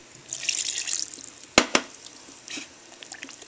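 A kitchen tap running cold water into a sink, a hissing splashing stream up close that ebbs and swells, broken by two sharp clanks midway, with no talking.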